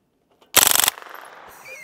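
An AM 15 .22LR rimfire rifle fires a rapid burst of about eight shots in under half a second, sharp and close outdoors, followed by a fading echo.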